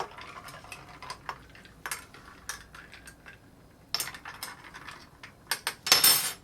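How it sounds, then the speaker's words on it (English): Light clinking of a spoon stirring a gin and tonic in a glass, several short faint taps and rattles at an uneven rhythm, then a louder clatter at the end, with no talk. "Just a slight stir, and then we get right to tasting."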